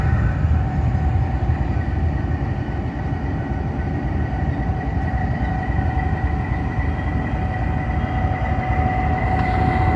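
Express passenger train on the Lahore to Rawalpindi route pulling out of a station, a loud steady rumble with faint tonal hum lines, continuous and close, no talking.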